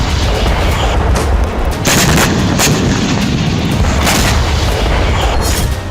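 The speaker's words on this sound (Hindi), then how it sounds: "ये खान यूनिस से आए दूसरे हमले का वीडियो है जिसमें हमास के कमांड सेंटर पर रॉकेट गिराए गए।" Rocket strikes hit a Hamas command centre in Khan Younis, a dense, loud barrage of booming blasts and rumbling impacts that runs without a break, with sharper bangs standing out over the continuous roar.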